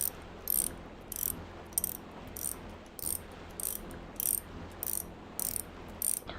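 Water pump machinery in the Mars colony building game Surviving Mars, a steady mechanical hum with evenly spaced bright ratcheting clicks repeating roughly every half second, alone and at moderate level.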